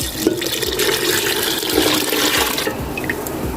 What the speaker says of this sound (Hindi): अब इसमें हम डालेंगे यखनी